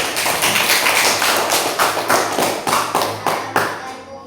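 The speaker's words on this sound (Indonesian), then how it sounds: "Kita beri aplaus dulu kepada kelompok 3" A classroom group claps in a quick, steady rhythm of sharp, close taps, roughly two beats per second, for a few seconds.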